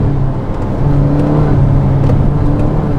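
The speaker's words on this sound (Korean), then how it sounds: "풀악셀" A SsangYong Torres AWD pulls hard at full throttle in manual third gear from about 60 km/h, its engine note a steady, loud droning whir heard from inside the cabin.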